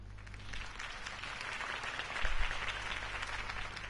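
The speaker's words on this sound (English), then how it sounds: "could have heard that applause" A crowd applauds a political campaign speech with sustained, even clapping that swells briefly toward the middle, heard from within the audience at moderate level.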